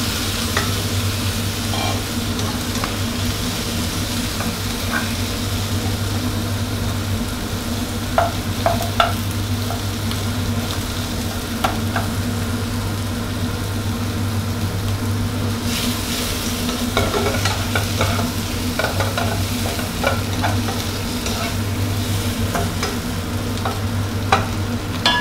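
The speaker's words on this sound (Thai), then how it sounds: "ใช้ไฟแรงครับกุ้งที่เราเตรียมไว้เลยครับใส่ลงไปผัดได้เลย" Shrimp being stir-fried with chili and garlic over high heat, with a continuous loud sizzle and frequent scraping stirs against the pan, close by and without speech.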